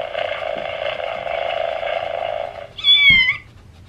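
A cat gives one short, clear meow at close range after a steady low hum, with no talking.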